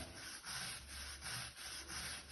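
A brush scrubs a rust stain off classic Victorian floor tile after a rust-removal product is applied, giving steady back-and-forth rubbing strokes, about six in a regular rhythm, close and fairly quiet with no talking.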